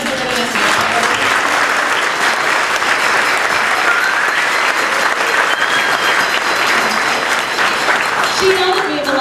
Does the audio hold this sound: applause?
yes